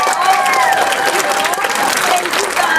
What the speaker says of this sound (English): Can you all give a round of applause to Mrs.